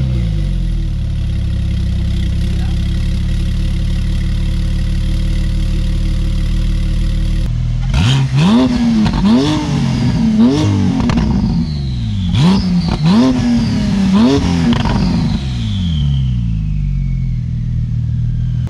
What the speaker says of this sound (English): I don't know what it sounds like, so let's give it a first startup